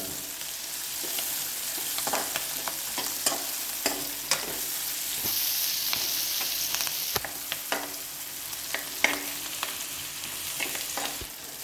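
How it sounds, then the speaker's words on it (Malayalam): Green chilli, ginger and garlic sautéing in a pan, with a steady sizzle throughout and the regular scrape and clack of a spatula stirring, close and moderately loud, with no talking. "ഇതിൽ നമ്മൾ പച്ചമുളകും ഇഞ്ചി വെളുത്തുള്ളി എല്ലാം കൂടെ ഇതിൽ ചേർക്കുക. ഇത്തിരി നേരം വഴറ്റുക."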